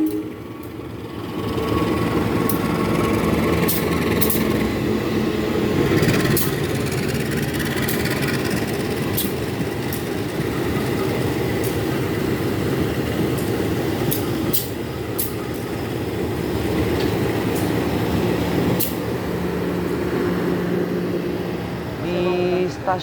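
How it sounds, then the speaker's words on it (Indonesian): The Kuto Jaya Selatan train at Gandrung Mangun station gives off a steady low engine rumble and hum that runs continuously, with faint metallic clicks and voices in the background. "ketemu kereta api Kuto Jaya Selatan ini sepertinya"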